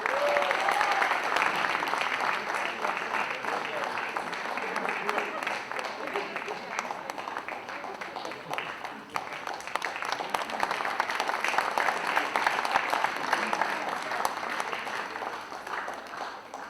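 Sustained audience applause at a student leadership competition event, a dense, steady wash of clapping from a large crowd lasting throughout without a break.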